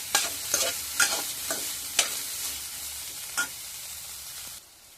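Bitter gourd stir-fried in a pan gives a steady bright sizzle with several sharp spatula scrapes and clicks, close and moderately loud, before the frying noise drops away abruptly near the end.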